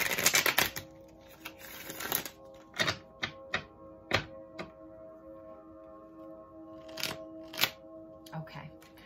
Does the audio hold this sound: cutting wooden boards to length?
no